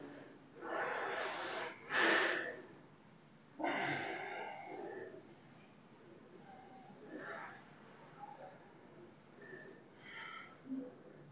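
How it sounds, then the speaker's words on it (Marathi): One deep breath is drawn in and let out during a breathing exercise, quiet and close, with a soft whoosh and a gasping edge, then fainter breaths trail off. "एकदा एक दीर्घ श्वास घेऊन सोडून द्या."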